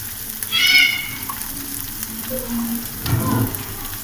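Chopped onions frying in a pan for egg bhurji, a steady close sizzle with a brief louder hiss as they go in and a stirring scrape near the end.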